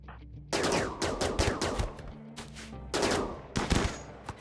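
Assault rifles and charge rifles firing in a RimWorld colony fight: loud, dense bursts of rapid shots in several volleys with brief gaps, close and without talk.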